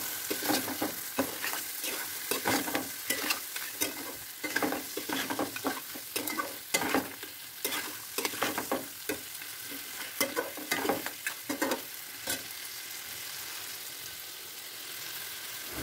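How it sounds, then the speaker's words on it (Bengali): Crabs being fried and stirred in a pan with coconut milk masala, a steady sizzle broken by a dense run of quick scraping and clattering strokes from the spoon, with no talking. "কাঁকড়াগুলো ঢেলে দিয়ে খুব ভালোভাবে কষিয়ে"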